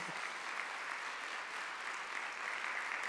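Congregation at a Korean church Sunday worship service clapping together, a steady dense applause that holds at an even level for a few seconds with no voices over it.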